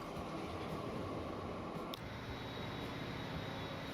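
A train in the video game Transport Fever 2 rolls along with a continuous broadband rumble and hiss, steady throughout with a brief click midway, and no talking over it.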